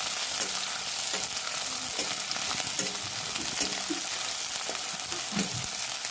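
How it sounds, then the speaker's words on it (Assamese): Onion fries in a pan for a mushroom dish, with a steady, close sizzle and occasional soft scraping of stirring. "মই এতিয়া পিঁয়াজটো মই দি দিম"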